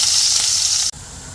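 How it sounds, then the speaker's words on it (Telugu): Chopped onion and curry leaves hit a hot pan, giving a loud, steady close-up sizzle that drops suddenly partway through and then carries on more quietly. "ఇదే ప్యాన్లోకి మనం తరిగి పెట్టుకున్న ఆనియన్ కరివేపాకు వేసి బాగా ఫ్రై చేసుకోండి."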